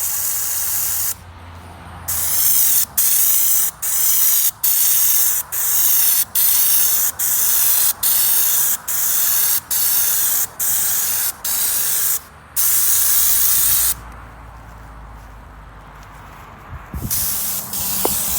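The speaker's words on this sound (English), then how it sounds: "So as Dakota sprays the Raptor liner" A spray gun at 40 PSI lays Raptor liner bed coating on a Humvee, loud and close. It starts with a long hiss, then fires a rhythmic run of short, evenly spaced spray bursts, and ends with a longer sustained blast.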